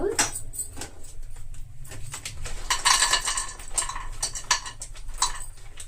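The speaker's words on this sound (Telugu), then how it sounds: "ఇప్పుడు మనం కొద్దిగా జీడిపప్పు కూడా వేయించుకుందాం" Cashews roasting and being stirred in a pan for laddus give off light metallic scrapes and clinks of a spoon against the pan, irregular and close over a low background hum.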